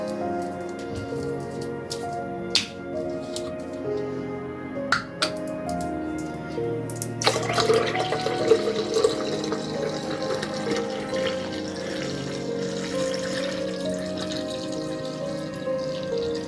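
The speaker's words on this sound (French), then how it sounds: "Là, je vais rajouter mon eau." Water is poured into a container of homemade lemonade, a soft trickling fill that begins after a few quiet clinks and continues steadily at moderate volume, with no talking.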